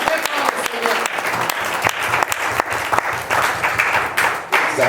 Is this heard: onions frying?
no